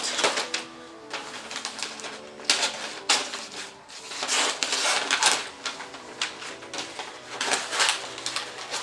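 Scissors cut gift wrapping paper for a large box, giving a close series of crisp, irregular snipping and crinkling bursts, roughly one or two per second, with soft paper rustle between and no talking.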